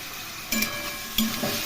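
Cumin, chili, ginger paste, salt and turmeric being stirred in a pan for papaya curry, a soft sizzle with two brief scrapes of the spoon against the pan.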